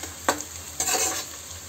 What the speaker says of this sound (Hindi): देखिए प्याज बिल्कुल मतलब फ्राई हो गया है, हमें ज़्यादा फ्राई नहीं करना है